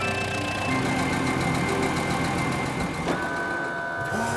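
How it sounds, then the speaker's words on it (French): Toy assistance vehicles roll up a ramp into a toy cargo plane, giving a steady mid-pitched motor hum with faint tonal whines and a brief clunk near the end, continuous and fairly close. "Les véhicules empruntent la rampe et montent dans l'avion."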